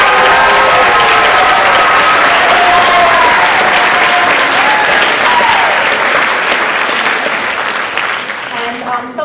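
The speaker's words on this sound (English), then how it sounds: "Please give them a round of applause" Sustained audience applause at a high school spring concert, loud and dense for several seconds before easing slightly toward the end, with crowd murmur and voices mixed beneath the clapping.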